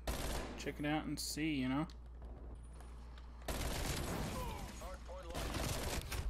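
Rapid bursts of Mac-10 submachine gun fire in the video game Black Ops Cold War, loud and close, crackling alongside someone talking casually over it.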